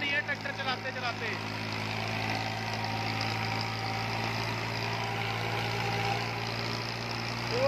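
A New Holland 4x4 tractor engine idling during break-in, a steady low hum with a constant droning tone, heard at moderate level throughout with some faint background activity.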